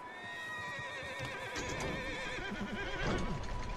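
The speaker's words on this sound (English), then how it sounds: "I hear horses." Horses neighing and whinnying in the Red Dead Redemption 2 video game, several wavering calls rising over faint hoof clip-clop, fairly close and steady throughout.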